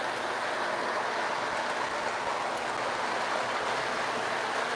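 Model trains run on a track with a steady, even rolling rumble and hiss of wheels, continuous and moderately loud for several seconds without any talk.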